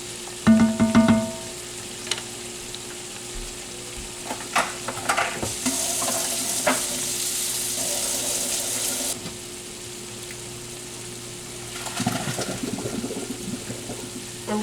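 Ground beef and onions fry in a pot, a soft sizzle with bursts of stirring and scraping, a louder hiss in the middle, and clinks near the start.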